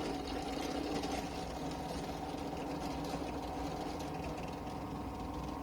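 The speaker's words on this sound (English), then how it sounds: "I'm drilling 2 pilot holes for" A steady mechanical whir of a pillar drill drilling pilot holes for mosaic pins in a catapult, running continuously at close range, with a constant motor hum and slight vibration throughout, no voices.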